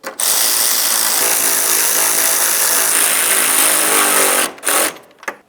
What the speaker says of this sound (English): Now we can snug up our bolts.